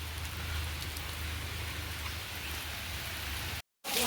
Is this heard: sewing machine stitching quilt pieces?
no